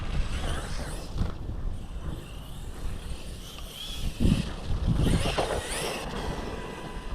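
Heavy wind buffets a GoPro camera microphone outdoors, producing rough low rumbling gusts that swell and fade throughout.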